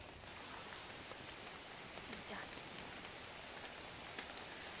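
Steady rain with wind hisses down in a dense, even wash of noise, with occasional faint drops pattering nearby and no voices.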